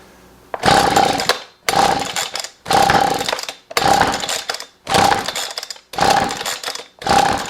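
Husqvarna 125B leaf blower with a no-start fault, pulled over and over: seven loud rasping bursts in a steady rhythm, each cutting off with short gaps between, close up with no voices.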